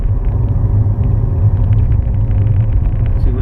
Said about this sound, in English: I can accelerate smoothly back towards 30